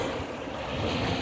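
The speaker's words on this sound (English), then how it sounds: "This is the sound" Steady broadband rushing of water pouring continuously over a wetland weir, a constant roar with no pauses and no voices.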